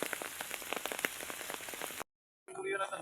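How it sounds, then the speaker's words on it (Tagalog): Rain patters steadily on an outdoor surface in a field where a large kite is flown in wind, then cuts out briefly before resuming with a louder, gustier texture. "Kahit ulan."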